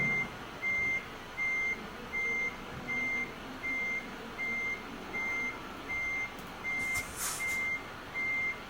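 Reversing alarm of a truck in Euro Truck Simulator 2 beeps in a steady, evenly spaced series of about eleven tones over a low engine rumble, with a brief hiss near the end.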